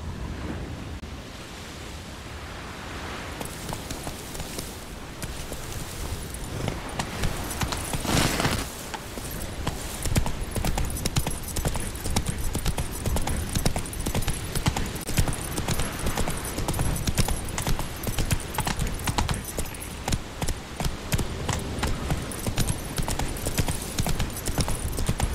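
Roach, Geralt's horse in The Witcher 3, gallops with a steady rapid clatter of hooves over a roaring wind-like rush, the pace building after the first few seconds and holding loud and continuous.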